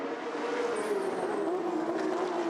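Porsche Carrera Cup race cars roar at Laguna Seca, a loud sustained high-revving engine note with a slowly falling pitch as a car sweeps past during a race.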